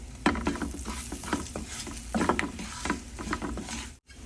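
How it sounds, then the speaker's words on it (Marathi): Garam masala and curry leaves sautéed in a pan for a pumpkin vegetable dish, with steady sizzling and repeated scraping stirs of a spoon, close and fairly loud, ending in a brief near-silent gap. "एक चमचा गरम मसाला आपण पैकी परतून घेऊया यात थोडा कढीपत्ता पण घालूया"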